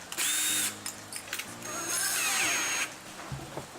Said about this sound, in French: sur chaque croix que vous avez, vous allez faire un trou avec votre mèche à bois